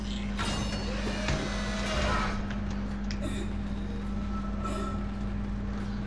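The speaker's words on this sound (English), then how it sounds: "Yep, this is the tram station." Industrial hum and creaking mechanical clatter at a tram station in the sci-fi horror game Dead Space, a steady low drone under scattered metallic knocks and hisses, continuous and fairly close.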